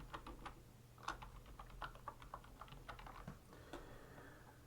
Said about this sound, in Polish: Wpisuję swoje hasło, które ustaliłem.